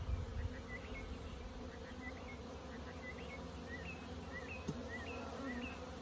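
Honey bees buzz steadily at an open hive that recently swarmed, a dense continuous drone close by, with a few higher insect whines drifting over it and no voices.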